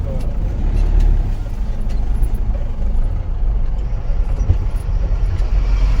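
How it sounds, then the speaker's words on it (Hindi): A vehicle comes along a narrow road near a riverside camping spot, giving a steady, fairly loud rumble of engine and road noise throughout, with faint voices in the background. "ये देखो वहां से अब गाड़ी आ रही है"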